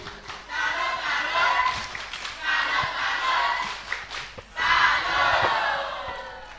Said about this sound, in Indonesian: Tepuk tangan ya Arvin